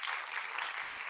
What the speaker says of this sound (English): can we please have a round of applause for Liz Marshall?